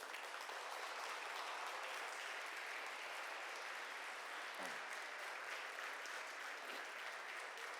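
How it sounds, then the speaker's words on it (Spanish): Church congregation applauding at the close of a Spanish-language sermon, with dense, steady clapping that holds at an even level throughout and no speech over it. "Dele ese fuerte aplauso a Dios."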